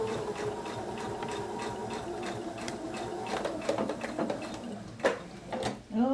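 A sewing machine stitches toward a corner of a quilt seam, its fast rhythmic needle chatter running steadily and close, with a couple of louder handling clicks near the end.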